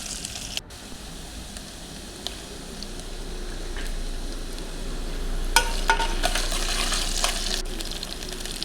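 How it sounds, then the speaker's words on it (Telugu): Onion and ginger-garlic paste fry with cumin and mustard seeds in a pan for birakaya pappu, a continuous close sizzle with occasional stirring clatter and scrapes that grows slightly louder toward the end. "ఆనియన్ రెడ్గా అయిన తర్వాత దాంట్లోనే అల్లం వెల్లుల్లి పేస్ట్ వేసుకొని పచ్చివాసన పోయేంత వరకు వేయించుకోవాలి."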